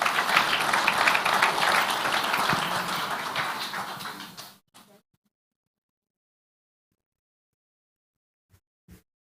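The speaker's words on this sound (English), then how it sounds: "Let's give a round of applause for Dr." An audience at the Cricket Namibia annual awards ceremony applauds with dense, fairly loud clapping that fades out after about four seconds, followed by near silence and a couple of faint knocks.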